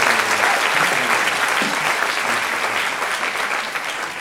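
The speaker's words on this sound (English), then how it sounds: "let me ask all of you to give Justin, Noah, everyone at the ROI community team a big round of applause" A large audience applauds at a business summit's opening ceremony, a thick, sustained wash of clapping that holds steady and slowly tapers toward the end.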